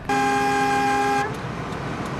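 A car horn in congested city traffic in Bengaluru, India, gives one loud, steady honk for about a second, then fades into the continuous hum of the road.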